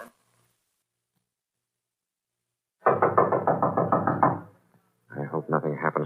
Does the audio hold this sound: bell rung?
no